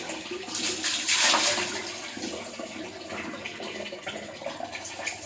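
Water runs steadily from a tap while hair is rinsed after a conditioner and hair mask, a continuous close splashing rush that swells and eases.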